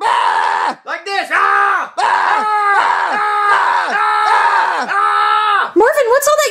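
A voice yells angrily and very loudly, in long strained bursts of shouting and screaming with only brief gaps for breath, close and continuous throughout.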